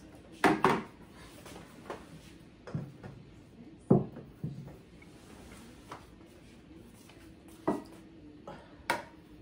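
Dishes and plates are set out on a dining table, with scattered clinks and knocks of crockery at irregular intervals, some sharp and close, others softer, with no talk.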